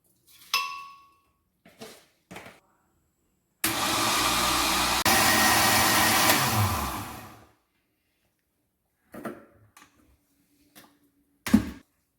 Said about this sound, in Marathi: ते आपण मिक्सर मध्ये चांगलं वाटून घेऊया, त्याची पेस्ट करून घेऊया।